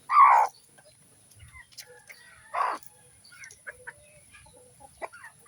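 Mother hen with her chicks coming down from a perch, a few short clucks spaced apart over faint peeping and quiet background, close and clear.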